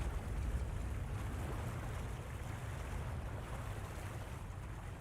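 A machine fills with water in the video game Genshin Impact, a faint continuous rushing wash that stays steady and even throughout, with no speech.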